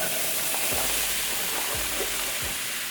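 Sliced zucchini hitting a hot frying pan gives a continuous loud sizzle, with a few soft stirring bumps under the steady frying hiss.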